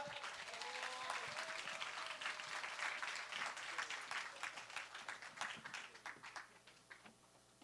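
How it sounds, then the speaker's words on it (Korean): Applause from an audience welcoming a professor to the stage at a Korean university major information session, steady and full at first, then thinning into distinct individual claps as it dies away. "긴장하지 않도록 큰 박수 부탁드립니다"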